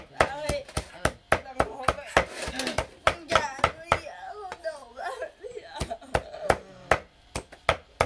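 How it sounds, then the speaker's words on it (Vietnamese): Pork bones are minced with a cleaver in a home kitchen, giving rapid loud chops in an uneven rhythm, close up, while people talk and laugh in Vietnamese around it. "Hơn cân xương mà băm là nhiều rồi."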